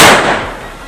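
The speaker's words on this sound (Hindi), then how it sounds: "ये देखिए जैसे पटाखा फोड़ रही है," A Diwali firecracker bursts in one loud, close bang that decays into a fading, noisy rumble over about a second.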